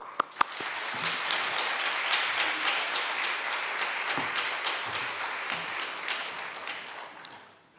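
A church congregation at a Good Friday dawn service applauds to welcome a pastor, a few early sharp claps swelling into sustained, evenly dense clapping across the hall before tapering off.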